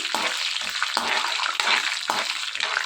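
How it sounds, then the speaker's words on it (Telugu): Chana dal and urad dal frying in a pan for ridge gourd chutney make a close, crackling sizzle that swells in short repeated bursts as they are stirred, with no voices. "పచ్చెనపప్పు మినపప్పు వేసుకొని వీటిని కొంచెం రంగు మారేంత వరకు వేయించుకోవాలి"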